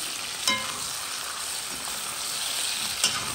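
A salted mixture is stirred in a bowl or pan under a soft continuous hiss, with a couple of sharp clinks of the utensil against the side, fairly quiet and without speech.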